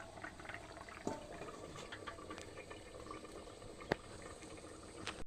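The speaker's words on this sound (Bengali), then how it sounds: "ঝোলটা ফুটে গেছে, এবার আমি নামিয়ে দেব।" Fish curry gravy boiling in a pot, a soft bubbling simmer with a few faint clinks and taps of kitchen sounds, quiet and continuous.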